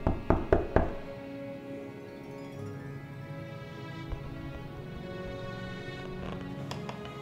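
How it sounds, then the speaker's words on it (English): Knocking at a door: three sharp, close knocks in quick succession, followed by a quiet room with a low musical hum and a few faint taps later. "Suddenly, his pleasant dream was interrupted by a knock at the door."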